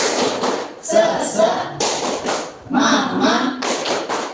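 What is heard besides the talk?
class performing the rhythmic 'tepuk semangat' spirit clap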